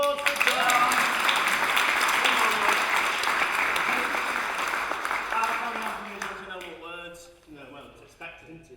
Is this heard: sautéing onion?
no